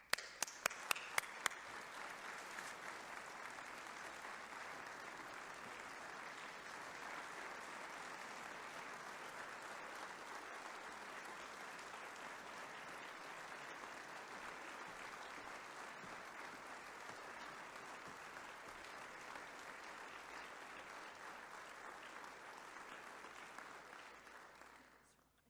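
An audience at a January jazz event applauds steadily as the Governor and First Lady come to the stage, dense sustained clapping from a crowd lasting about twenty-five seconds with no talk over it.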